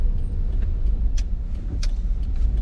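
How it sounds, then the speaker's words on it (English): Engine of a 2015 Subaru Forester heard from inside the cabin under acceleration, a steady low droning rumble with a few faint clicks on top, no talk. "when you put your foot on, you can hear the noise of the engine too"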